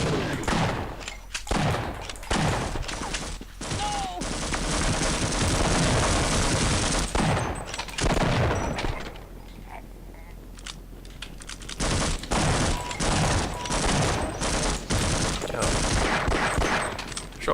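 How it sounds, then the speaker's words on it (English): Repeated gunfire bursts from a shotgun in a map-vault video game level, loud sharp blasts in quick irregular volleys with brief quieter gaps, close and dense. "Shotgun really doesn't work at anything other than point blank range, does it?"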